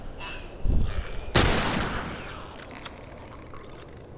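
Hunting rifle in The Last of Us Left Behind, a single loud, sharp gunshot that cracks out and rings into a decaying tail, with some faint clatter before and after.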